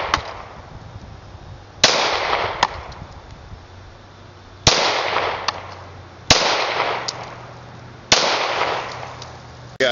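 Ruger SR9 9mm pistol fired outdoors, five sharp loud gunshots at uneven intervals, each with a long decaying echo trailing off before the next.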